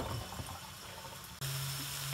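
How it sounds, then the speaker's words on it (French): Running water from a tap rinses drained mung bean sprouts in a home kitchen, a close, steady splashing hiss that briefly cuts out and then resumes with a slightly changed tone, with no talking. "On va les rincer aussi."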